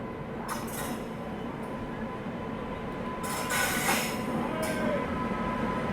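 Prayagraj Express rolling past behind a WAP 7 electric locomotive: steady loud rumble of wheels on track throughout, with bright clinking bursts from rail joints, heard nearby with no talk.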